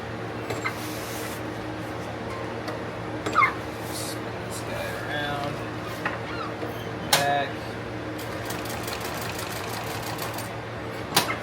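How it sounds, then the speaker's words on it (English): A sewing machine runs straight and zigzag stitches on a tactical plate carrier. Its steady motor whir carries a fast mechanical rattle, with a few sharper clicks and clatters spread through the run. "we'll do a straight stitch back and forth, and then we'll do a nice condensed zigzag stitch"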